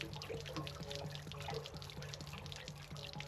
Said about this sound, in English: That is how you drain the water tank.